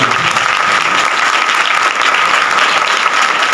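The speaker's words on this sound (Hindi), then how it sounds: "जोरदार तालियां हो।" A church congregation breaks into loud, dense applause at a Christmas night sermon, a sustained roar of many hands clapping close by.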